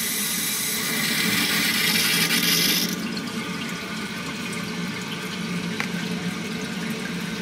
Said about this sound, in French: ouvrir l'eau et vérifier pour les fuites